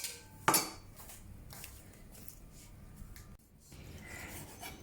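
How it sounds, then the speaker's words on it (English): A knife scrapes across raw pork belly skin to clear off hair and dirt, a dry rasping rub close up with a sharp clatter near the start and a brief pause before the scraping carries on. "scrape the skin with the knife and remove any hair or any dirt that may still be there"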